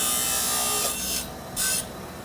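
A golf club shaft is being trimmed for tipping, giving a harsh steady grinding rasp broken by two short louder bursts, close and continuous, with no talking.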